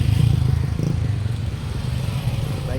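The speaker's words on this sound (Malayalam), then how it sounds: "ബൈക്ക് റൈഡേഴ്സൊക്കെ വരുന്നുണ്ട്" Motorcycles of passing bike riders rumble along a misty hill road in Kodaikanal, a steady low engine drone that stays fairly loud and continuous throughout, with no speech heard.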